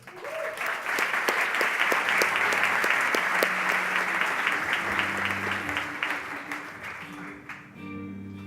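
A conference audience breaks into sustained applause welcoming Doug Leone and David Velez onstage, a broad even roar of clapping that holds steady before thinning out as a voice begins speaking at the end.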